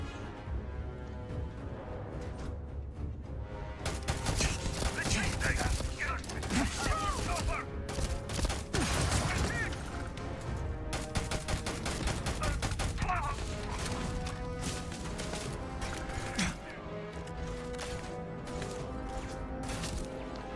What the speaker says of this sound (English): Oh, hang on, there's turrets.